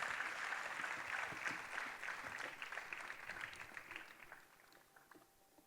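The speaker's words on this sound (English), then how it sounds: "You can keep clapping." A conference audience applauds a gift presentation with sustained, dense clapping from a crowd that gradually thins and fades toward the end.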